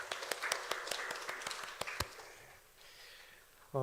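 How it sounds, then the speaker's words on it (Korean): A church congregation claps together in quick, regular beats for about two seconds before the clapping stops and fades into quiet room tone, heard faintly and at a distance. "하나님께 영광의 박수 드리겠습니다."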